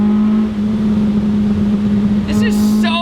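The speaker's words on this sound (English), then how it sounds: "We also have a Borla exhaust" An early-2000s Ford Focus SVT fitted with a Borla exhaust pulls hard under acceleration, a loud, steady engine drone heard from inside the car with a brief shift dip and some cabin noise near the end.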